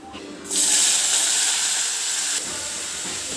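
Jackfruit seeds drop into a hot pan of well-fried ingredients for a thoran, bursting into a loud, bright sizzle. The hiss holds steady for about two seconds, then eases to a quieter, continuing fry, with no talk.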